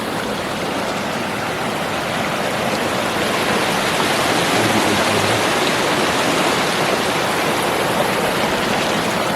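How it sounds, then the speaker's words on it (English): Steady rushing of a creek flowing over rocks beside a waterfall on the Colorado Trail, close and continuous, with a constant hiss and no voices. "Beautiful creek though."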